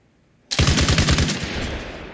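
A large machine gun in the ARMA Reforger video game opens up abruptly in a loud, rapid burst of heavy automatic fire that echoes and trails off.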